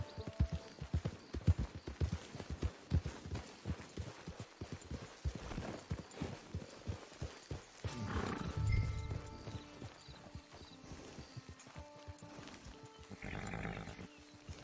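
Horse hooves clip-clop in the video game Red Dead Redemption 2, a rhythmic trotting patter that starts fairly close, then thins out and fades, with a brief snort or whinny and some ambient game sound later.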